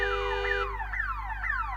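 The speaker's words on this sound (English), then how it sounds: "That's my car alarm." A parked car's alarm blares on a city street, cycling through repeated rising and falling electronic whoops and steady tones, loud and continuous with no talking.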